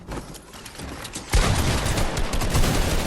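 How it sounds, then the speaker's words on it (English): Dense gunfire erupts in the video game Fortnite as many players shoot at once, sparse shots at first, then a loud, continuous crackling fusillade. "Just tons of people shooting at the same person."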